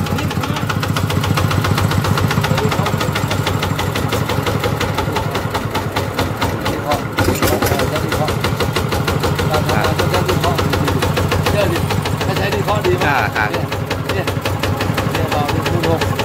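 Engine of a farm tractor idling at a Thai tractor shop, a loud steady rapid knocking chug that runs throughout without pause, with a voice faintly underneath.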